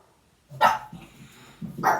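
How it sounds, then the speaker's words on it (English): A dog gives two sharp, fairly close barks with a short pause between them, standing alone against a quiet background. "There's a dog bark."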